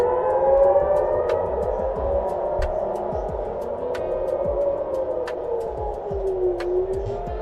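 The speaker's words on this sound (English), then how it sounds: "Air raid sirens." A wailing air raid siren in Tel Aviv, Israel rises and falls steadily over a low rumbling hum, with faint sharp ticks scattered throughout.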